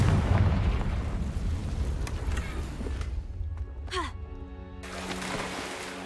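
A Confringo spell from the game Hogwarts Legacy bursts into a loud booming explosion with a rumbling roar that fades out, followed by a brief whooshing sweep and quieter game ambience.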